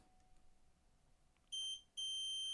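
A multimeter in continuity test mode beeps while checking a fuse during repair of an ASRock B450 Steel Legend motherboard; after quiet, a steady high electronic tone starts, breaks briefly, then resumes continuously, close and clear.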